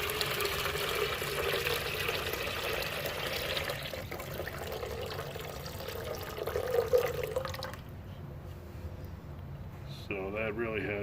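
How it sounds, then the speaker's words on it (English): Distilled water pours into a tank in a continuous splashing stream for several seconds, then stops, followed by a short gurgling trickle near the end. "I'll put some of the distilled water in there so you can see what that looks like in the tank"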